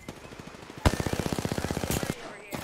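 Automatic weapon fire in Apex Legends rattles off in a rapid, even burst of about twenty shots at close range, opening with a heavy report and trailing off into quieter in-game effects.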